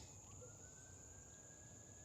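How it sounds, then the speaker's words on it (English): Faint, distant siren wailing far off near a river in Tennessee, a thin steady tone drifting slightly in pitch beneath quiet outdoor ambience and insect hum. "I hear sirens somewhere too."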